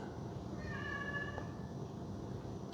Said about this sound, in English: We've got a cat that's begging for something